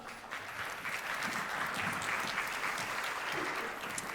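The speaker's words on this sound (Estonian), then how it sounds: "Aplaus." Applause from an audience at a cybersecurity conference talk, a sustained, even patter of many hands heard from a moderate distance, fairly quiet and steady for the whole stretch with no talking over it.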